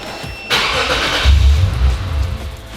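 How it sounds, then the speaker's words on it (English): A Lexus IS350 with no battery, powered by an Autowit SuperCap 2 jump starter, cranks briefly and fires up, settling into a loud, rumbling idle close by. "let me go try to start the car"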